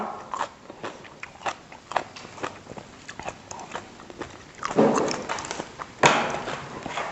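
Close-up crunchy bites and chewing of pickled shrimp, with irregular wet crackles and a few louder crunch bursts and no talking.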